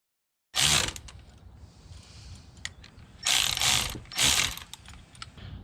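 A battery wire clamp gets tightened on a 2003 Mercury Marauder, heard as close ratcheting bursts, several sharp clicking runs separated by short pauses and small metallic ticks.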